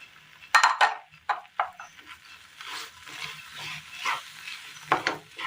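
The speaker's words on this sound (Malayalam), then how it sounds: "നന്നായി ഒന്ന് മിക്സ് ചെയ്തെടുക്കാം." A spoon scrapes and stirs through cooked pumpkin pieces and coconut in a pan, with uneven bursts of clatter and a soft sizzle between strokes.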